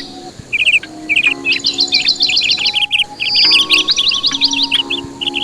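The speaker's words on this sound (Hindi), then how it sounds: "सभी पक्षी मिलकर जोर से शोर मचाने लगे" Cartoon birds chirping noisily together, a dense overlapping flock of bright, rapid trilled tweets and repeated calls, loud and close, with a faint insect-like buzz underneath and no talk.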